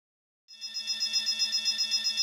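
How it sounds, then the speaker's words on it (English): An electronic alarm sounds in the video game Goddess of Victory: NIKKE, starting abruptly after brief silence and repeating in a fast, even, pulsing ring, loud and close with no voices. "An alarm? What is it? What's going on?"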